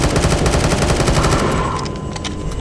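Rapid automatic gunfire from a modded video game weapon, loud and close, a fast even burst of shots that thins out toward the end.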